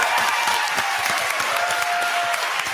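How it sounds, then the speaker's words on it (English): A roomful of people applauds a newly official county controller at a Democratic congressional candidate forum, steady dense clapping filling the space close by with no voices. "can we give a huge round of applause to its now official county controller"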